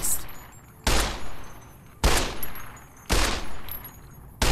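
Four loud gunshots from the player's weapon in the video game Fallout: New Vegas, evenly spaced about a second apart, each with a sharp crack and a short tail.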